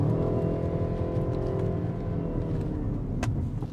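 A 2021 BMW 128ti hot hatch drives along with a steady, loud engine drone and road rumble throughout, with a brief sharper tick near the end; no one speaks.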